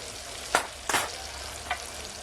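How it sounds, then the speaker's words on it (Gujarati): Onions frying in a pan with salt and spices in a village kitchen, an even sizzle broken by three quick scraping stirs, close up with no voices. "તો આપણે આમાં થોડુંક મીઠું નાખી દઈએ ડુંગળી જલ્દી સડી જાય થોડીક લાલ થાય"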